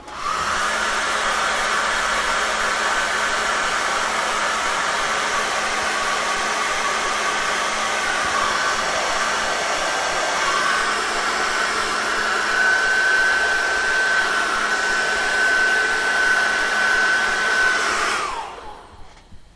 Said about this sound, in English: I put my hand over the back of the hairdryer just to warm up the element so it would dry quicker.